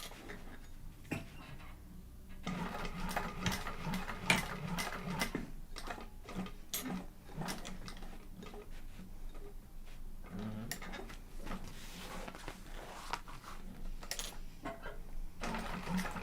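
Sewing machine running in short bursts, stitching back over earlier handle stitches on a bag, with rapid ticking needle strokes, pauses, and fabric handling clicks nearby, fairly quiet.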